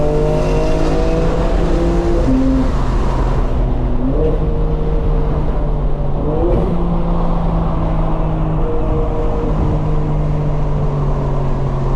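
A 2025 BMW M4 Competition drops from fourth to third gear, the engine note falling and then rising again in quick revving steps. Loud exhaust blips and a throaty rasp from inside the car fill the whole stretch.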